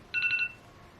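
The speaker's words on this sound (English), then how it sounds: "That's my alarm." A short electronic phone alarm tone beeps in a quick burst of four pulses, then stops, leaving a quiet room.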